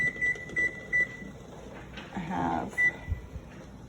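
A kitchen timer, set while boiling eggs, beeps in several short, high electronic bursts at irregular intervals, with faint clattering and rustling in between.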